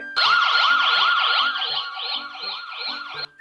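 A voice imitating a wailing ambulance siren, rising and falling in steady sweeps, loud and close, then cutting off abruptly.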